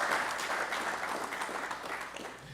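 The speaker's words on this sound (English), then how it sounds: "That requires a round of applause" Audience applause at a graduation ceremony, a steady wash of many hands clapping together, moderately distant and sustained, fading slightly toward the end.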